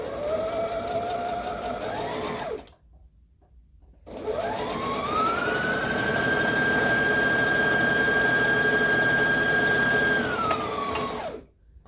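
A sewing machine stitches folded ribbing cuffs together in two runs. Each is a loud, close, steady whir that rises to full speed and then slows, separated by a short pause.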